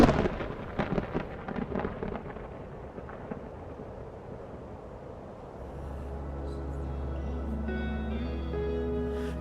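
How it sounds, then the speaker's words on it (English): A midday thunderstorm rolls in, with dense rumbling thunder and heavy rain at first that eases into a steadier wash of rainfall with a low sustained drone underneath, no talking. "A midday storm is rolling in"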